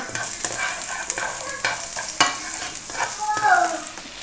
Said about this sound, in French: Je vais mettre les oignons. Je vais les faire revenir.